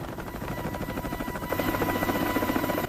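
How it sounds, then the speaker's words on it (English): A very large military helicopter's huge rotor spins up above the fuselage, a dense, steady thumping whine that swells louder partway through, with a low droning hum joining in and no voices. "the huge rotor begins turning above the fuselage"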